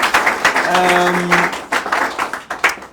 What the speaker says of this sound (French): Est-ce qu'on peut applaudir tout le monde qui vient nous prendre, s'il vous plaît?